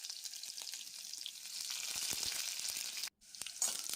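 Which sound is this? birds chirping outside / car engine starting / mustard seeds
mustard seeds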